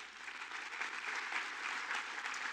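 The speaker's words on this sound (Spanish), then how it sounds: "Denle un aplauso al Señor" A church congregation applauds together, a steady, moderately distant wash of clapping that continues without a break for the whole stretch.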